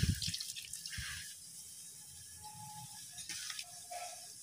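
Water is poured into a pan of simmering ridge gourd and prawn curry in a Bengali village-style kitchen, giving a quiet splash and trickle with small drips and clinks close by, and no one speaking.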